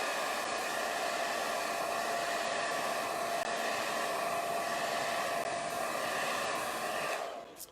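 A hair dryer blows steadily and loudly close by while drying a paper tiki mug, a constant whooshing roar that cuts off near the end, with no talking.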